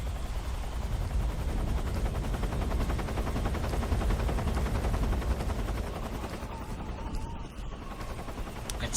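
Helicopter rotor from Metal Gear Solid 3: Snake Eater, a loud, steady chopping drone throughout, with rapid gunfire-like bursts mixed in.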